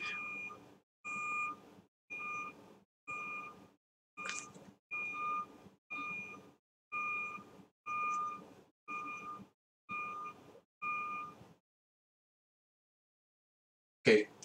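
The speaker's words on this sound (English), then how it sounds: "Thank you for beeping." A truck's reversing alarm sounds nearby as a regular series of eleven evenly spaced electronic beeps, moderately loud, then stops, followed by silence and a brief sharp noise at the end.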